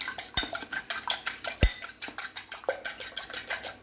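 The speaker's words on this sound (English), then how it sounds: "Give those a quick whisk" Two eggs are whisked briskly in a bowl, a quick steady rhythm of about five clinking strokes per second, close and clear, with a couple of sharper knocks against the rim.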